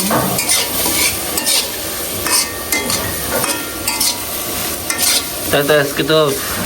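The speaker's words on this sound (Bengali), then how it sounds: "আর এদিকে এদিকে মাংসটা ভাজা ভাজা করতেছি" Meat sizzles and fries in a pan at home, with constant bright crackling and repeated scraping stirs of a utensil against the pan, close and loud, no talking.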